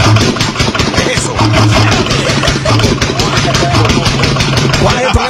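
A faulty car engine runs rough and uneven up close, with a rapid irregular knocking rhythm throughout and a low drone underneath.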